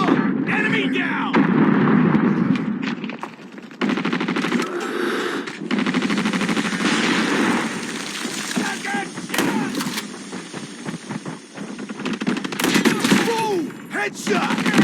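Gunfire in a video game, with shotgun blasts and other weapon fire crackling continuously over a dense, busy game soundscape, with voices talking over the shooting.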